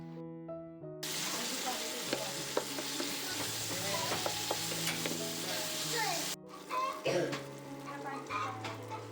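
Tomatoes with salt frying in a pan while being stirred, a bright steady sizzle with scraping spoon strokes, broken by a short pause, with faint background music.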